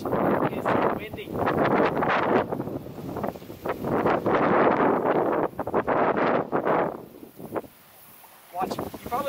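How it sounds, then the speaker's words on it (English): Strong wind buffets an outdoor microphone in loud, broadband roaring gusts that surge and drop through most of the stretch, easing briefly near the end before rising again. "It's windy."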